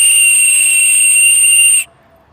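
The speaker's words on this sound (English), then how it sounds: "this one is actually louder than the other two" A Walmart Ozark Trail survival-kit whistle is blown in one loud, steady, shrill blast lasting nearly two seconds before cutting off abruptly, close and alone.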